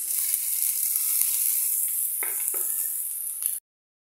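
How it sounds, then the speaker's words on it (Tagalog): White onion and garlic sautéing in oil for beef stew, a bright continuous sizzle close by with a couple of stirring scrapes, cut off abruptly near the end. "Igisa na natin ang ating sibuyas."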